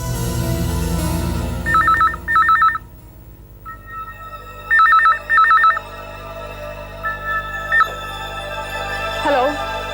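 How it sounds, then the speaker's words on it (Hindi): A telephone bell rings in two short bursts, pauses, then rings two more times, loud and close over a low background hum, with faint speech-like sound in the background. "फोन की घंटी बज रही है।"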